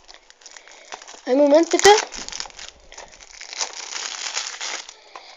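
Crinkling and tearing of plastic wrap as a packaged FIFA 13 PSP game is opened, loud crackles mid-clip, with someone speaking German briefly over the rustling.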